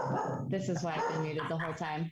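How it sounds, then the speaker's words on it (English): A pet dog barks and yips loudly near a microphone during an online committee meeting, several sharp barks in quick succession while a person talks over them. "that's my dog she has right now"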